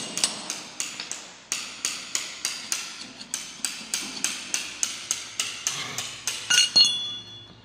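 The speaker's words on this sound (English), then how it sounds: "Chiseling floors now." A chisel is chipping old paint off a floor in a steady run of sharp, hammered clinks, each strike evenly spaced and close, with a slightly faster flurry near the end.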